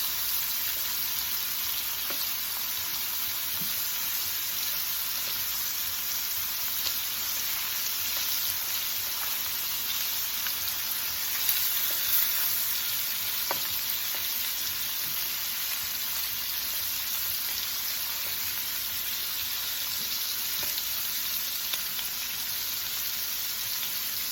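Jerk shrimp fry in a pan with a steady, dense sizzle that holds at an even level throughout, with faint crackles and pops scattered through the hiss.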